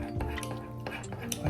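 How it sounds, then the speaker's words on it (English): Cake batter being stirred in a bowl for a microwave cake, a utensil scraping and clinking against the dish in quick, close, continuous strokes with faint sizzling texture and no clear talk. "Stir that shit up."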